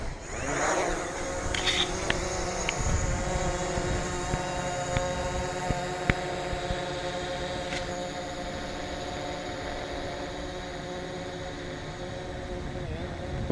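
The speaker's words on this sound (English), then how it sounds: "let's take off and we'll fly with a little bit of Wi-Fi" A DJI Mavic quadcopter drone takes off and flies: a steady whining propeller buzz with tonal harmonics holds throughout at moderate loudness, with a few faint clicks.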